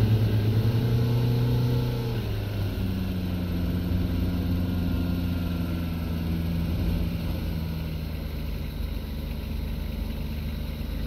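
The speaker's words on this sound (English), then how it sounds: "Bus engine is so noisy." A bus engine in the Tourist Bus Simulator video game drones at a steady idle, a low humming rumble that shifts pitch slightly after a couple of seconds and keeps running evenly, close and moderately loud with no talk over it.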